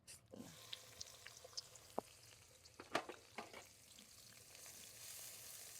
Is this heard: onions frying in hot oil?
yes